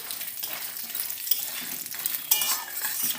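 Lentil dumplings (bori) and peanuts frying in oil while being stirred in a pan, giving a continuous bright sizzle with scraping stir strokes and a sharper clatter near the end, with no talking.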